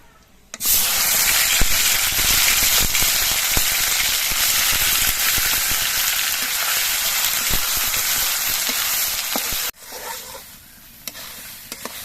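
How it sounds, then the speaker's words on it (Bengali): Beetroot paste hits hot oil with nigella seeds and dried chili and fries in a loud, dense, continuous sizzle, then cuts off abruptly near the end, leaving quiet kitchen background. "কালো জিরে আর শুকনো লঙ্কাটা ভাজা হয়ে যাওয়ার পর এর মধ্যে আমি বিট বাটার দিয়ে দিচ্ছি"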